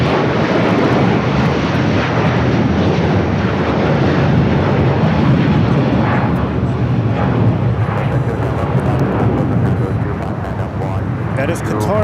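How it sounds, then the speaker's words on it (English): Qatar Airways Airbus A350-1000 jet, seven years old, roars loud and steady at close range at Los Angeles airport, a broad continuous engine rumble throughout with voices talking faintly underneath. "That is Qatar 740 going to Doha. 7-year-old Airbus A350 1000."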